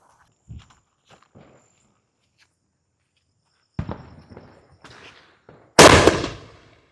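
A Diwali double-shot firecracker gives a sharp bang and a second, louder blast a moment later, both close, after a few faint earlier pops and crackles, with no talk.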